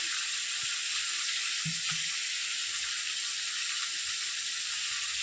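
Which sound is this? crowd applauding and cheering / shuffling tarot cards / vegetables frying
vegetables frying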